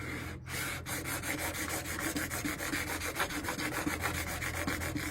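A steel chisel is pushed back and forth over a sharpening stone in steady, even strokes, a close, dry rasping rub that repeats roughly every fifth of a second after a brief pause at the start.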